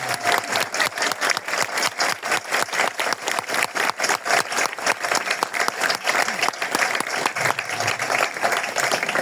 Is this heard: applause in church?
yes